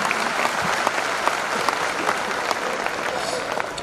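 An audience at a motivational talk bursts into sustained applause, a thick wash of many hands clapping at an even level throughout, with a few sharper individual claps standing out near the front.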